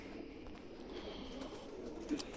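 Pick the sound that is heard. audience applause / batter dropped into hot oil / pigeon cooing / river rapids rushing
pigeon cooing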